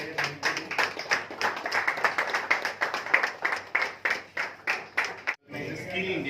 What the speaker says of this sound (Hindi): पूर्णिमा गायकवाड़, इनके लिए भी एक जोरदार ताली होनी चाहिए।